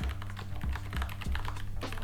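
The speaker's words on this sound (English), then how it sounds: "The next one is the most silent mechanical keyboard I've ever used. It's from Barmello, and it uses silent switches" Fingers type on a Barmello mechanical keyboard fitted with silent switches, producing soft, muted, rapid keystrokes in an uneven rhythm close up, with no talking.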